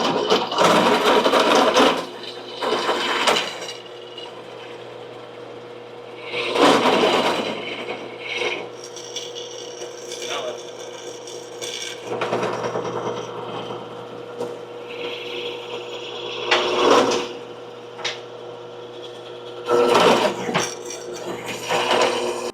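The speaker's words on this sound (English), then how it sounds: "we're drilling holes that will screw bolts onto and secure tightly to the housing of the transmission" A power drill whirs in repeated bursts of grinding into the metal housing of a 4L60E transmission, with quieter pauses and a steady hum between each pass.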